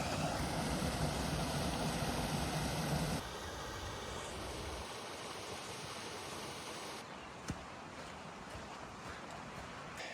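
Robinson Branch Falls, a small waterfall on the Florida National Scenic Trail, pours in a steady, close rushing wash of falling water that fills the whole clip without any talk.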